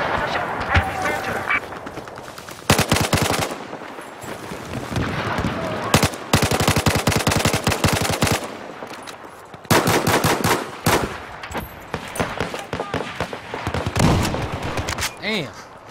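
Battlefield 4 gunfire: long bursts of automatic fire in several loud, close volleys broken by short pauses, with a voice talking in the gaps.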